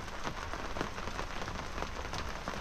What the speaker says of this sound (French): Là, il pleut comme ça depuis 2 heures à peu près.